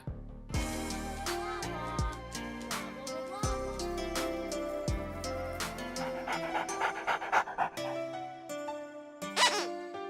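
A dog pants in the virtual reality video game Good Dog, Bad Dog, heard in quick rhythmic breaths alongside game music and chimes, with no talking over it.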